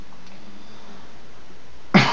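A single short, loud cough bursts out right at the end, after a stretch of faint steady background hiss.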